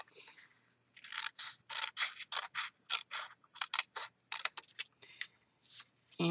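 Scissors snip through paper craft pieces for a small purse-shaped box, making a quick run of close, crisp cuts in an uneven rhythm with brief pauses between.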